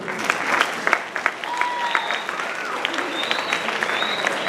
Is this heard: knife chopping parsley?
no